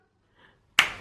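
A single sharp hand clap used as a transition cue, one crisp close burst after a moment of near silence.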